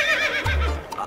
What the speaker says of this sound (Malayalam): അല്ല അത് കുതിരയല്ലേ?